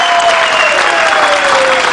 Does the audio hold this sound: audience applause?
yes